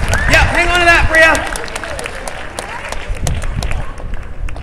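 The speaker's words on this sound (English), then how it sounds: "Give her a clap, guys." A London street audience at a bed-of-nails act breaks into scattered clapping after someone speaks, the claps continuing as a loose, moderately loud patter.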